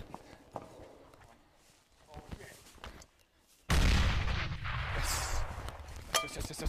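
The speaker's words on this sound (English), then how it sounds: "I'm gonna throw a grenade." A grenade explodes in PUBG, a sudden loud, close blast partway through that rumbles on with debris and noise after quieter footsteps and small sounds.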